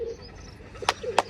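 Pigeons in a village coo softly in low, murmuring bursts, with a couple of sharp clicks or flutters close by and no talk.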